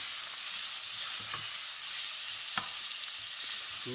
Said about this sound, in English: I've got a little bit of olive oil again in a hot pan. In goes our bacon.